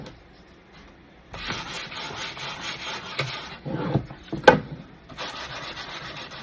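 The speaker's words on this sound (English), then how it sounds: "I'm going to sand it down" Sandpaper rubs down painted wood in close, steady back-and-forth strokes, loud and scratchy, pausing briefly between passes with a sharp knock midway.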